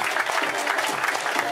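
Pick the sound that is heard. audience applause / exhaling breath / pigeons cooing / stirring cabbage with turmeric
audience applause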